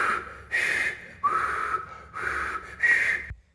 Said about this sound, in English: Day one, learning how to whistle.